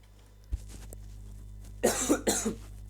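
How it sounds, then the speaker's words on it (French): A quiet room, a faint thump, then a short burst of two or three harsh coughs close by. "j'arrête pas de tousser"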